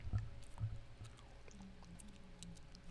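Gum being chewed close to a microphone, soft wet clicks and squishes repeating irregularly at low level with no talk over them.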